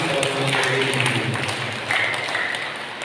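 A congregation clapping during a Sunday Catholic Mass in a church, steady applause filling the space throughout, with a voice talking faintly underneath.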